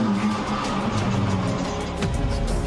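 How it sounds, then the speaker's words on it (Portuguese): A car approaches with a loud, steady engine roar and road noise growing close, heard alone without talk. "de repente, um carro se aproxima"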